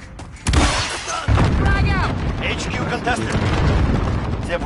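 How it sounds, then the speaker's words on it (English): A frag grenade explodes in a first-person shooter match, a loud low boom striking abruptly and then rumbling, with further blasts and gunfire layered over squad voice chat as teammates talk throughout. "Frag out."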